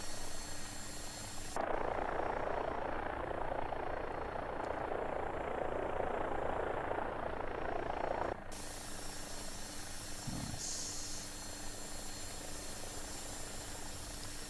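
A simulated AW-109 helicopter flies in X-Plane 12, with a steady rotor and turbine drone that grows louder and fuller in the middle stretch, then drops back to a quieter cabin hum.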